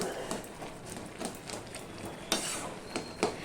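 Taro leaves being stirred and mixed in a pan, with soft scraping and clinking strokes of a spoon against the metal at an irregular pace, fairly quiet and close, no voices.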